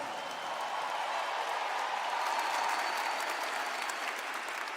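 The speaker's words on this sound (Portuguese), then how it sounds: "Prepara para aplaudir." An audience at a church camp breaks into sustained applause, a dense, steady wash of many hands clapping that holds evenly throughout with no voices on top.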